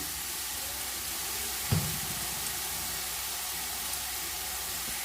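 A spice masala of cumin powder, turmeric and salt fries in a pan for tarka, a steady even sizzle with a brief clink of stirring near the start.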